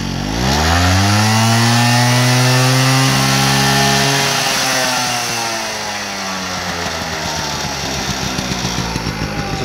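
A 1970s barn-find moped engine runs, first revving high and buzzing before the idle drops to a slower, loping putter as the mixture screw is turned; loud and close, with no talking.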